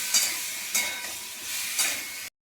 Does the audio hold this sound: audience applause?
no